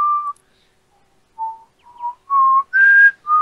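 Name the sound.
person whistling the Final Fantasy 13 theme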